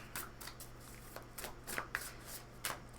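Tarot cards are handled as one is drawn from the deck: a quick series of soft, papery riffles and flicks in short bursts, close by and fairly quiet, with no talking.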